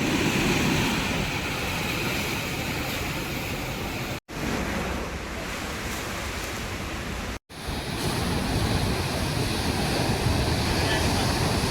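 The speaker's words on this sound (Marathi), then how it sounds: "बाकी सगळीकडे पाणी आदळतंय" Sea waves crash against the rocks at Hedvi beach on the Konkan coast, near the Bamanghal natural sea gorge. A loud, steady roar of surf mixes with wind and drops out briefly twice.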